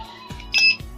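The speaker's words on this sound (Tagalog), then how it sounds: "Okay, ito, nag-beep siya." Short electronic beeps from a cheap anti-theft motorcycle lock alarm, a brief bright tone sounding close and loud among light handling noise.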